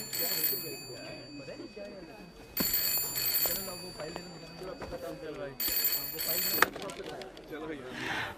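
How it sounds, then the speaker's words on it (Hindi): A phone rings in an office in repeated bursts of bright electronic trilling, clear and fairly close, while people talk continuously underneath and between the rings. "फोन बज रहा है तुम्हारा"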